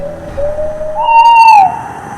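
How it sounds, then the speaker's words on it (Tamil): An owl gives a single long, tonal hoot that rises and holds before cutting off, clear and fairly loud against a quiet background. "ஆந்தை. Owl."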